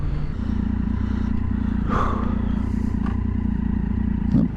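A Triumph Daytona 675 sport motorcycle engine idling steadily up close, broken by a few abrupt, jerky on-off throttle blips that surge and cut out.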